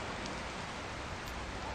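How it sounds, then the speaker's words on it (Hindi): Steady rain falls continuously, a dense, even hiss of drops with no pauses, heard close by at a moderate level during an outdoor news report in Hyderabad. "बारिश गिर रही है,"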